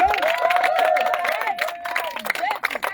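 Church congregation at a Christian gathering in Korhogo cheering and applauding for Jesus: a dense, sustained roar of shouting voices and clapping, loud and continuous throughout.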